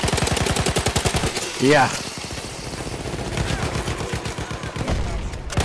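Rapid automatic gunfire in Battlefield 1 on the Argonne Forest map: a fast, loud, continuous rattle of shots runs through the whole clip, with a brief vocal exclamation partway through and more bursts after.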